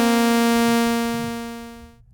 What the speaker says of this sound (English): we're going to get that really open kind of pad sound